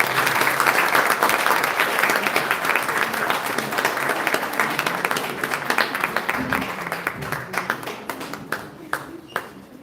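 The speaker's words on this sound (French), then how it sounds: "Si tu es capable d'applaudir, s'il te plaît." Sustained applause from an audience at an international Creole language event, a dense wash of many clapping hands that thins out toward the end into scattered individual claps, with faint voices underneath.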